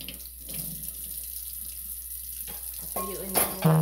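Water runs steadily from a kitchen faucet into the sink while food is being cooked. A hiss holds through the clip, and louder splashing and clatter come near the end.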